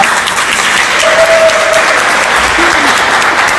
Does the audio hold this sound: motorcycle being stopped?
no